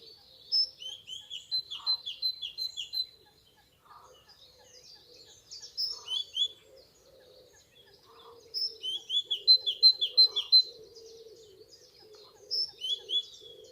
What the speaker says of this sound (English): The main bird that's making all that noise does sound like a great tit